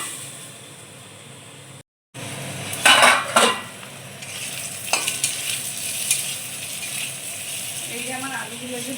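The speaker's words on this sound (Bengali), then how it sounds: "আলুগুলো একটু ভালো করে ভাজা ভাজা হবে" Potatoes fry in a hot pan for a home-style potato, eggplant and pomfret fish curry, with a steady sizzle, spoon scraping and stirring clatter, and a louder burst of stirring near the start.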